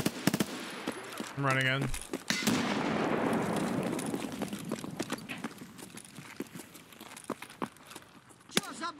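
Gunfire in the shooter game Escape from Tarkov: rapid bursts of sharp, close shots crack repeatedly over several seconds, with a player's voice speaking briefly near the start.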